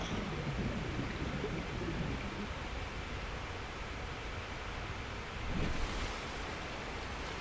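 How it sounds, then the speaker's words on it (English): Hail falling in the video game Subnautica Below Zero, a steady dense hiss of countless tiny impacts that fills the whole stretch evenly, with a brief swell near the end. "the meteor shower stopped and now it's just a bunch of hail"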